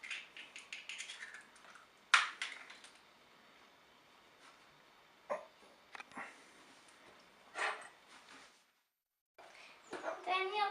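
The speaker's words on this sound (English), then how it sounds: "Then you're going to beat them up. With a fork, if you want to, or a spoon." Two eggs being beaten with a fork in a bowl for banana bread: rapid, close clicking strokes at first, then sporadic lighter taps and scrapes, fairly quiet overall.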